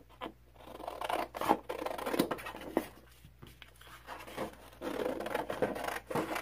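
Scissors cutting cardstock, a series of close, soft crisp snips and rustling scrapes in an irregular rhythm, fairly quiet.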